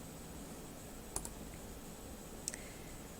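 Two faint, sharp computer mouse clicks on a Google Classroom turn-in button, about a second apart against a quiet hiss, alone with no talking.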